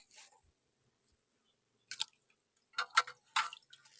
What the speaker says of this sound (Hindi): ताकि जितना भी पानी इसमें है वो अच्छे तरीके से नीचे आ जाए